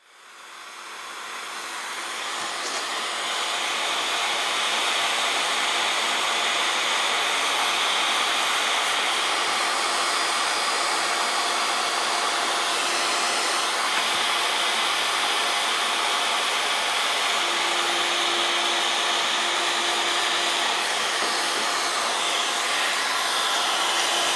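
A heat gun blows across a Husqvarna 372XP chainsaw case to heat it so a main bearing can be removed, producing a constant loud airy roar that runs unbroken throughout.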